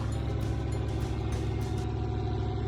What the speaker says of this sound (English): The tractor coughed,